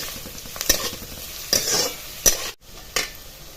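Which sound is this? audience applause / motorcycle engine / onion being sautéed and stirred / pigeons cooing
onion being sautéed and stirred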